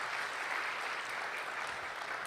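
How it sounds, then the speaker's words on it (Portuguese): A church congregation applauds during a worship service, a steady, even wash of many hands clapping at moderate distance, fairly quiet and without distinct individual claps. "Você pode aplaudir o Senhor?"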